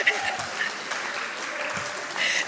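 Conference audience at a walking conference in Ireland gives a round of applause, a steady wash of many hands clapping in a hall with a voice speaking over it, swelling slightly near the end.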